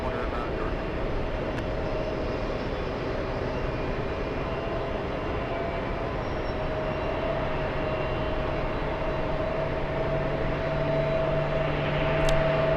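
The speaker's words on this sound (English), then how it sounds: "And here comes the Columbus flight." An airliner on the Columbus flight at JFK airport passes as a steady, broad engine roar with a faint whine, distant and even throughout, with a person talking quietly underneath.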